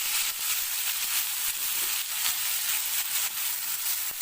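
Shallots sizzle steadily in hot oil with chillies and curry leaves for Madurai-style goat blood poriyal, a bright continuous crackle close by with faint stirring scrapes.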